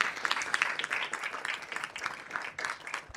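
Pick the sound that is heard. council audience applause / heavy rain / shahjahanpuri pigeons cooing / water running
council audience applause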